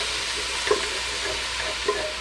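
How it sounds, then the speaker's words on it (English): Crushed tomatoes pour into a hot pan for marinara sauce, a soft wet glugging over a steady sizzling hiss, with a couple of brief plops landing near and fairly quiet. "So here go the crushed tomatoes."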